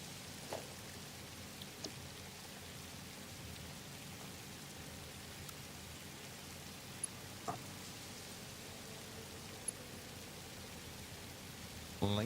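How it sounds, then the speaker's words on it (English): Steady rain falls across a desert landscape in the video game Satisfactory, a constant soft hiss with occasional faint drip ticks. No voices. "Raining in the desert."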